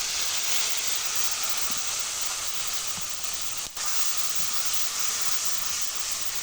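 Spice mix sizzles in a pan of fried onions, a steady loud hiss of frying that carries on unbroken, with a brief dip and faint knocks of stirring underneath.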